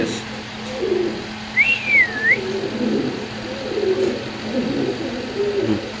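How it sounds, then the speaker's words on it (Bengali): Pigeons cooing in a loft among many birds, low repeated coos near and far with a brief whistling call and some background voices. "আমরা আরেক জোড়া কবুতর ইনশাল্লাহ দেখাচ্ছি আপনাদের"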